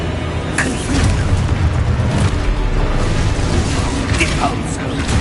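Confringo fire-spell blasts in the Hogwarts Legacy video game land as repeated booming bursts amid combat effects, loud and dense across the whole span, with a voice shouting spell incantations over them.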